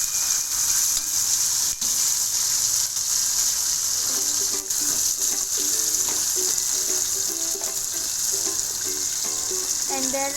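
Moong dal and soya are stirred in a hot pan with a continuous close sizzle and frying hiss, while faint tonal sounds run underneath midway through.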